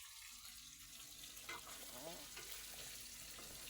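Fish sizzles quietly in a frying pan, a soft crackle and hiss running steadily underneath faint background voices.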